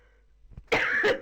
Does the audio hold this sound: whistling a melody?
no